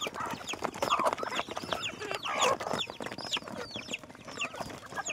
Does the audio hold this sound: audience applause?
no